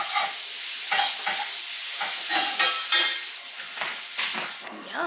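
Sausage frying in a pan crackles with a loud, close, continuous sizzle that swells and spits in bursts.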